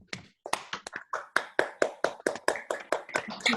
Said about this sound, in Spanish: desmutar para aplaudir a Pedro.